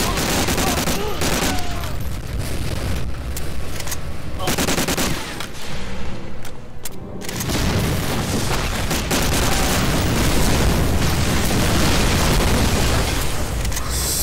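Dense battle sounds from the video game Medal of Honor Allied Assault, with continuous loud gunfire, machine-gun bursts and booming explosions layered densely throughout, briefly thinning before resuming at full intensity.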